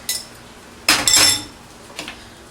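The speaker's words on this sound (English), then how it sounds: "Time to add the eggs. I love that sound." Eggs go into a pan of linguini for a breakfast bowl, making bright clinking, sizzling bursts: a short tap, then a louder clattering spell, then a faint final clink.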